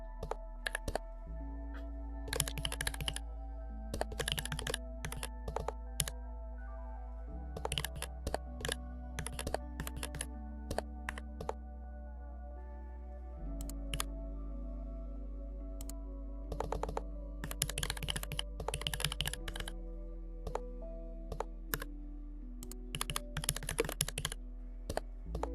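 Steady computer keyboard typing, bursts of crisp key clicks in uneven rhythm across the whole stretch, close and fairly quiet over a low tonal music bed, with no voices.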